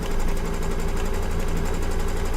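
An embroidery machine stitches underlay for an appliqué gnome mug rug with a fast, steady, close mechanical rattle that holds unbroken throughout.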